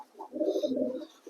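A strong, lively male mukhi pigeon gives a soft, throaty coo lasting about a second, close by and clear with nothing else around it.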